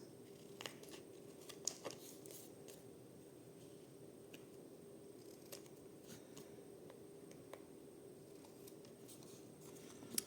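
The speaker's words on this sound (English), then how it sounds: "I'm just gonna cut those pencil marks." Scissors snip through book pages along pencil-marked lines for a junk journal tag, a series of faint, irregular cuts and rustles over a quiet room hiss, with no talking.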